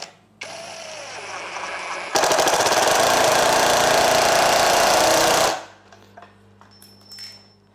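A Keelat brushless impact wrench drives a 1.5-inch screw into wood: the motor whirs, then breaks into a loud, fast, continuous hammering rattle for about three seconds before stopping abruptly, close and with no voices.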